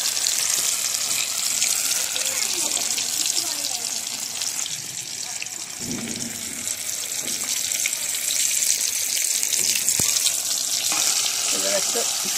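Rice flour and ash gourd frying in a pan: a loud, continuous hissing sizzle with occasional scraping and clinks, close up, and no clear voices.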